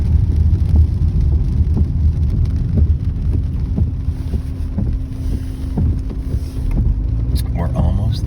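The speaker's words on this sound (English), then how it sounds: "Hasn't stopped raining" Steady rain and wet road noise under a low vehicle rumble, with wind buffeting the microphone throughout.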